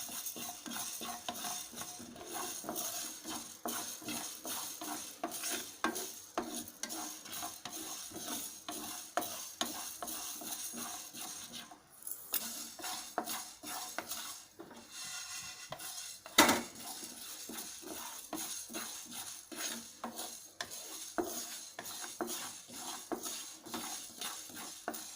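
Fenugreek seeds dry-roasting in a pan for homemade sambar powder, stirred continuously with a utensil that scrapes and clinks against the metal, a steady busy rhythm with one sharper knock midway, no voices.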